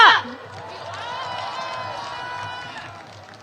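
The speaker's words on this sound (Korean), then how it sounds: "여러분 뜨거운 함성과 박수 부탁드립니다" An outdoor opposition rally crowd cheers and applauds, a broad sustained roar of shouting and clapping that swells right after a brief loud onset and then holds steady.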